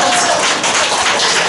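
An indoor audience at a book concert in a Daegu church claps together, a dense, steady burst of applause filling the hall for a moment.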